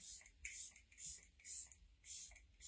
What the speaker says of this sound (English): Everset setting spray by Ophir.